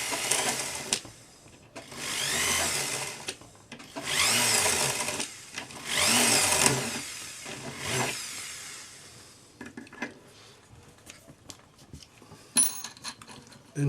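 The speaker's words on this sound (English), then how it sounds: "And drill all the way through." A small power drill whirs in several sustained bursts, grinding through a metal ring up close, followed by quieter taps and handling clatter.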